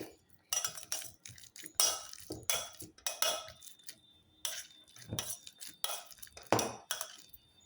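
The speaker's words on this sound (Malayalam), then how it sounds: "ഇത് മത്ത് വെച്ച് നമുക്ക് ഇത് ഇങ്ങനെ ആക്കാം." Fruit being mashed in a bowl with a masher for a fruit salad, a run of uneven soft squelching presses mixed with light clinks of metal against the dish, close and fairly quiet.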